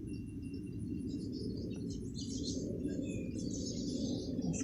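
Small birds chirp faintly in the distance outdoors, light high tweets scattered over a steady low background rumble, with no talking.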